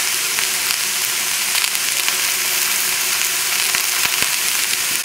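Onions and leeks sweat in a pan with a steady, close hiss of sizzling, continuous and even throughout with a few faint clicks and stirs, no voices.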